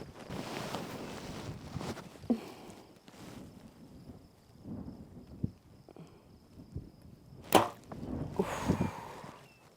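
Gusty wind buffets the microphone with low rumbling bursts at an outdoor 3D archery range, rising and falling, with a few sharp knocks.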